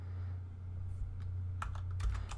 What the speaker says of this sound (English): We're going to type out chia.exe,